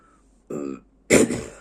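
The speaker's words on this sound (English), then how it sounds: "I can't edit my coughing" Two short coughs, close and fairly loud, separated by a brief pause.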